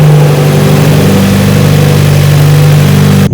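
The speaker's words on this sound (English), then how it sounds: "then we could start the car." A Subaru WRX engine idles after a belt tensioner replacement, a loud close steady hum with a strong even tone, cutting off abruptly at the end.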